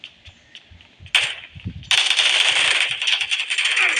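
Gunfire from a gun in the PUBG Mobile video game: a few sparse shots, then a dense, sustained burst of rapid automatic fire with a metallic rattle, close and loud.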